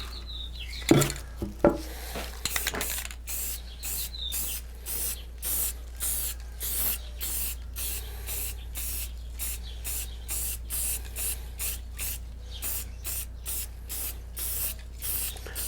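Short, rhythmic bursts of spray paint hiss across a carved redwood sign, about two dozen quick spurts at a steady pace, fairly close and with no talking.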